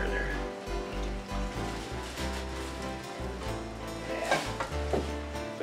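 Lasagna sauce sizzles steadily in a pan while a spoon stirs through it, giving a soft continuous crackle over a low hum with occasional scraping swirls.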